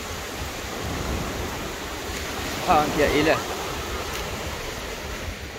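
Sea waves at Saidia beach after floods wash in as a steady broad roar under wind, with someone speaking briefly midway.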